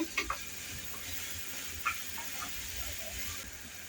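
Soft scraping of a spoon stirring onions with turmeric and salt in a hot pan over medium gas, a few light clinks over a continuous gentle sizzle.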